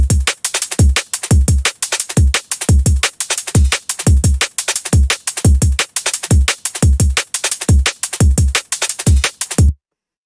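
Simple sampled drum loop for dark liquid drum and bass, with punchy kicks and crisp snares and hats repeating in a tight, steady pattern. It plays loud and upfront for about ten seconds, then cuts off cleanly.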